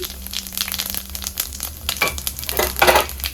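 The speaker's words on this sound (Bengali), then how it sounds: "তেজপাতা দিয়ে দিলাম গোটা জিরে দিয়ে দিলাম" Bay leaves and whole cumin seeds fry in hot oil, giving a close, crackling sizzle with irregular pops and bursts that swell louder toward the end.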